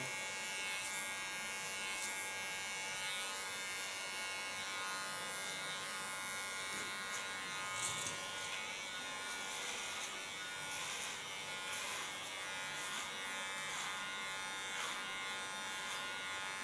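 An electric hair clipper cuts hair, a steady faint buzzing hum that runs continuously with slight wavers as it moves through the hair.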